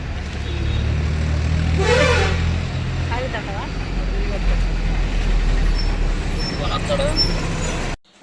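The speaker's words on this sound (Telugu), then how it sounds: "బస్సు వచ్చింది వచ్చిందా బస్సు" A bus pulls up at a village stop, its low engine rumble loud and steady throughout with traffic-like road noise, while people talk over it and the sound cuts off abruptly near the end.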